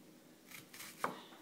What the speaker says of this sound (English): First, I cut almost all the way through the onion, but not through the root